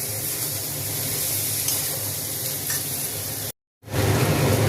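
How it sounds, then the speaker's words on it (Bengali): Vegetables and spices sizzle steadily in a hot pan, a close, continuous frying hiss broken by a short gap before resuming louder. "সবজি আর মশলাটা ভাজা ভাজা হয়ে গেছে একটু"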